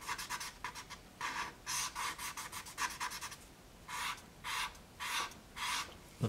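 A Q-tip rubs wet impasto-mixed oil paint off a canvas while blocking in a blue shark painting, giving repeated soft, close scratchy strokes in a steady back-and-forth rhythm with no voices.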